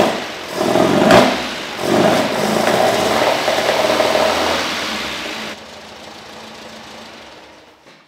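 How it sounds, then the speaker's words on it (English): An Alfa Romeo Spider engine runs during carburettor tuning with the main jet removed, revving in a couple of bursts and then settling into a rough idle that cuts out partway through, leaving a quieter tail. "With that out, I can run the engine for a little bit and get the fuel level to settle."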